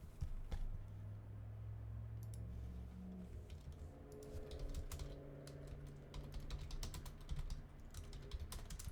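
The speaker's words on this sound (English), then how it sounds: "Oh, I can't type." Rapid clicking keystrokes on a computer keyboard run steadily throughout, close and fairly quiet, over a low background hum.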